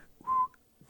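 A person gives a single short, steady whistled note, close and clear, with only faint background noise around it.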